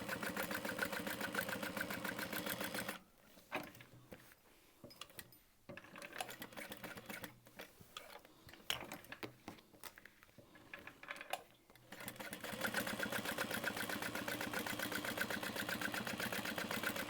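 A sewing machine runs in steady bursts while stitching a crossbody bag at a long stitch length, a fast even whirr with a quieter stretch of handling and light clicks in the middle before the motor resumes.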